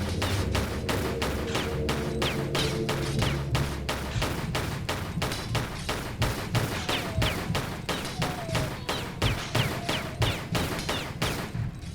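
Rapid, evenly spaced pistol shots fired at a scorpion in a custom Tomb Raider level, a long steady volley of loud, close reports with a low ambient hum behind them.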